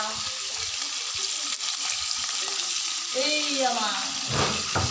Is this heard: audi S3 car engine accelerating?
no